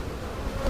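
Honey bees buzzing at a hive of newly drawn wax, a dense steady drone close by with no talk.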